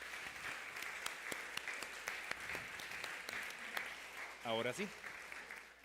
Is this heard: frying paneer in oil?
no